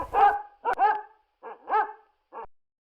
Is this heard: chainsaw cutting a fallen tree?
no